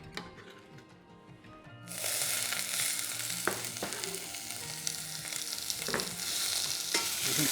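Food frying in a pan in a festival cooking session. After a quiet start, a loud, dense sizzle sets in and carries on steadily, with the scrape and clatter of stirring close up.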